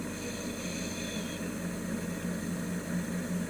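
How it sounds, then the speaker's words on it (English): Propeller airplane engines turning over before departure from France, a steady, fairly loud drone with a low rumbling hum that holds level throughout, with no voices. "the propellers are starting to turn over"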